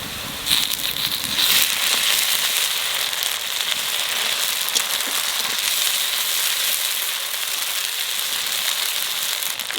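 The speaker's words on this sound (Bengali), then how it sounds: "পেঁয়াজটা একটু লাল লাল করে ভেজে নিছি" Onions sizzle in hot oil in a pan with ginger paste, giving a steady, bright frying hiss with crackles throughout. The sound is close and continuous, with no talking.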